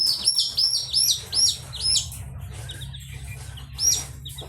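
Caged quails chirp close by, giving repeated sharp, high calls in quick bursts over a low humming background.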